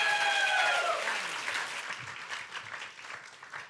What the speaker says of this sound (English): And now maybe just a round of applause for all of them.